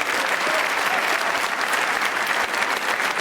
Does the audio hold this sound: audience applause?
yes